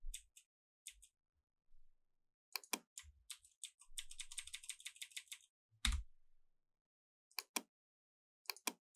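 Computer keyboard keys pressed for shortcuts while working in PLC software, heard as sparse single clicks and a quick burst of rapid typing, close and fairly quiet, with brief pauses between presses.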